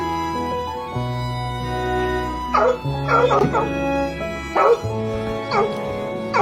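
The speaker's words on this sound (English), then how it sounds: "Alexa, bark." A dog barks in a few sharp bursts close by, answering a smart speaker's synthetic bark sound, with a sustained musical tone underneath and no talking.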